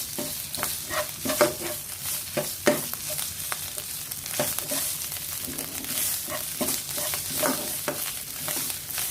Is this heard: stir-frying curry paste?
yes